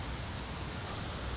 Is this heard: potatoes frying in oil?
no